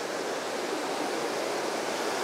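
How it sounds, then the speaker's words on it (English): Waterfall and small cascades at the Birks of Aberfeldy in autumn, a steady broad rush of falling water, even and continuous, with no voices. "there's quite a significant waterfall that's dropping down from"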